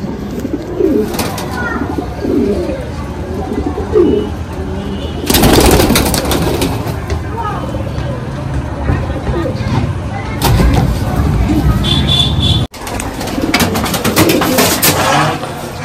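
Golden Kamagar pigeons cooing close by in repeated soft, rolling phrases, mixed with rustling and handling bursts and occasional nearby talk.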